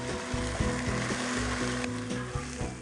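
Ginger garlic paste sizzles steadily in a pan of red onion, a continuous close frying hiss with intermittent scraping knocks from stirring and no voices.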